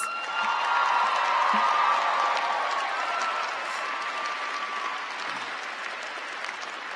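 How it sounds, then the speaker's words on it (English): Graduates at the 2014 Cambridge College commencement break into loud, sustained applause mixed with cheering from a large crowd, easing slightly in volume after a few seconds but continuing throughout. "Go ahead and give yourselves a round of applause."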